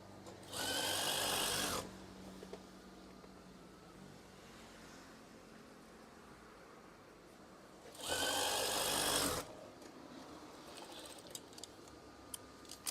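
A sewing machine stitches a swag curtain in two short whirring runs, a buzzing motor hum with quiet handling noises in the pause between.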